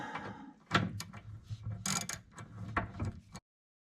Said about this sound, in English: time to tighten these bolts up